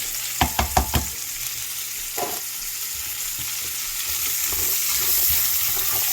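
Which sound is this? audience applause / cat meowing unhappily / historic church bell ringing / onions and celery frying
onions and celery frying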